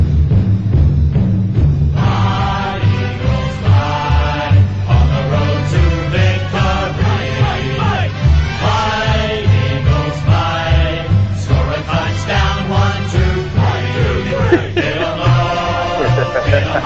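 A recorded song plays loudly and continuously, a full band mix with vocals over steady drums and bass.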